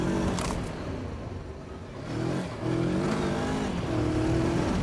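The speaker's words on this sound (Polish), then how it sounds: "taka szorstka praca tego silnika" Voge 525 DSX adventure motorcycle engine revving above 4000 rpm with a rough, slightly harsh running character, a close steady whine that dips briefly then climbs again, no voices.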